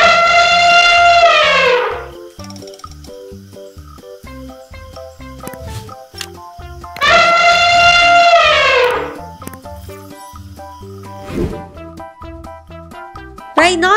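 An Asian elephant trumpets twice, loud and close. Each blast is a brassy call that bends downward in pitch, and both sit over light background music.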